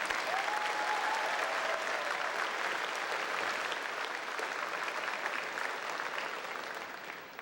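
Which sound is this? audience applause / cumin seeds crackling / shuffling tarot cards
audience applause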